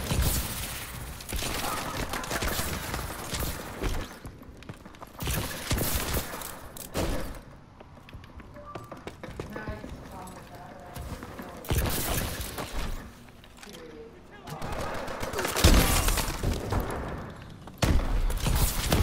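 Gunfire in the video game Call of Duty: Advanced Warfare, with bursts of loud shots, booms and impacts in irregular clusters separated by quieter gaps.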